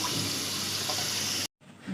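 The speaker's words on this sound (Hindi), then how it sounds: "अब हम इनको अच्छी तरह से, बहुत अच्छी तरह से पानी से धो के निकाल लेंगे।" Tap water gushes steadily into a sink while lotus roots are rinsed, a loud close splashing that stops abruptly near the end, leaving faint room noise.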